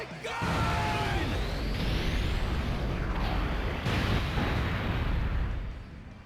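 A Gallic Gun energy blast in the anime fighting game Dokkan Battle opens with a rising, whooshing sweep, then holds as a loud, sustained roaring explosion for several seconds before tapering off at the end.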